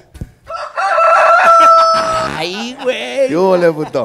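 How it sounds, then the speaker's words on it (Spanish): A rooster on a ranch crows loudly and close by in one long, drawn-out cock-a-doodle-doo that tapers into a wavering finish. "Es, un gallo, compadre, es un gallo."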